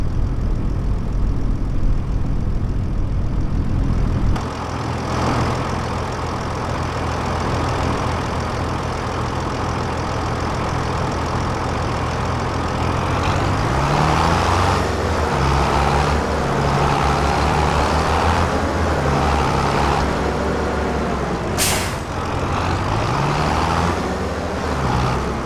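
A farm machine drives toward a field in Farming Simulator 25, its engine holding a steady, loud drone throughout, with a low rumbling note that rises and falls in the second half.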